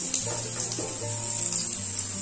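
Roti pieces frying in a shallow layer of oil, being browned on the second side, give a steady close sizzle with a low hum underneath, and there is no talking.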